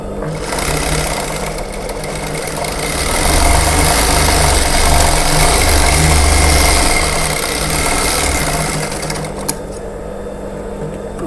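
Sewing machine at a ladies' tailoring setup stitching a fabric lining seam, a loud, close, continuous motor whir with rapid needle chatter that slows slightly near the end, no talking.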